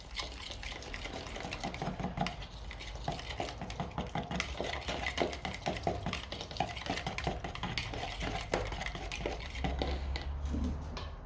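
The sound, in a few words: stirring powder into liquid until dissolved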